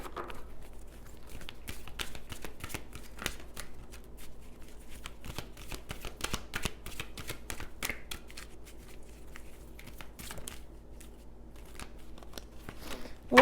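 Angel cards are shuffled in a run of rapid, crisp riffling clicks and flutters, close and moderately quiet, continuing throughout with no talking.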